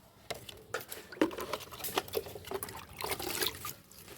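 Water is poured slowly into a rooftop-garden pot holding a newly planted litchi tree. Quiet, irregular splashing and trickling rise and fall as the soil fills.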